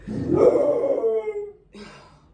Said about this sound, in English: it's like he always know when to howl